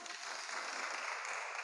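Audience applause at a church faith talk, a steady, fairly faint wash of clapping that holds evenly for under two seconds.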